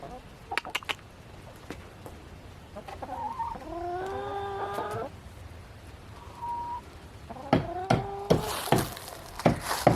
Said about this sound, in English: Chickens have been watching us all day.